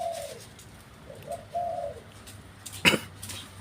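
Soft, low dove coos drift in a few short phrases over a quiet background, followed by a brief sharp rustle near the end.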